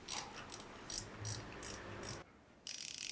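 A Snap-on FBF80A bent flex-head long ratchet with a sealed head freewheels in a close, crisp run of rapid clicking pulses, pausing briefly before another dense burst of clicks.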